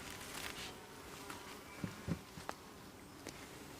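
Honeybees hum faintly inside an opened beehive, a soft, low, continuous buzz with a few light taps and knocks close by.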